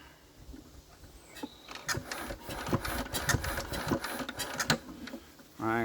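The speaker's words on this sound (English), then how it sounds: "I think we might have to crank this a bit just to pump it in." An Enfield diesel engine is cranked over by hand while its fuel system is being sorted, producing a run of close, rapid mechanical clicks and knocks with faint background noise.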